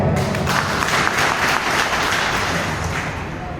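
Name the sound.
audience applause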